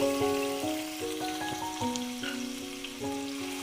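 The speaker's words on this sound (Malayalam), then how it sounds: "ഇനി ഇതിലേക്ക് നമുക്ക് നന്നായിട്ട് സ്ലൈസ് ചെയ്ത് കട്ട് ചെയ്തെടുത്ത 2 ഒനിയനും കൂടി ഇട്ടിട്ട് ഫ്രൈ ചെയ്തെടുക്കാം" Sliced onions frying in oil for a chicken biryani, giving a steady soft sizzle under scattered tonal kitchen sounds and faint stirring, with no talk.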